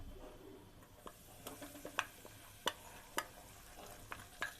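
Besan (gram flour) roasts in a pan on a very low gas flame while a spoon stirs it. Quiet, irregular scraping ticks stand out over a faint background.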